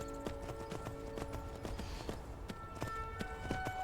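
Horse hooves clip-clopping at a steady gallop in Skyrim, a regular run of quiet thuds with faint background music tones underneath.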